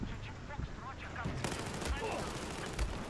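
Gunfire in the video game Battlefield 4: rapid automatic bursts and scattered shots over a dense, constant battle din, with someone speaking at times over the noise.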